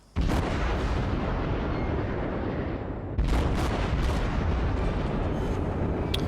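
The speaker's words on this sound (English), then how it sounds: "As you can see, I fired a 3-round burst, hit 3 Citadels right there." Heavy naval guns from a warship in a battle video game fire a booming salvo, then a second loud blast of shots lands near the three-second mark, with deep rumbling rolling continuously underneath.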